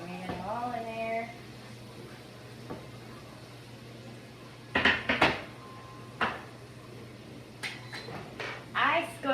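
Celery tipped into a cooking pot for New Orleans-style red beans and rice, then stirred: a few sharp clatters and scrapes of utensil against pot, spaced out over a quiet kitchen hum, after a short stretch of talking.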